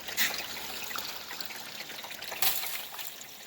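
Water trickling and running over a sluice dream mat, a steady soft wash of flowing liquid with a couple of brief louder splashes.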